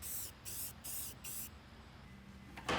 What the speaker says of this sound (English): Then I spray painted them black.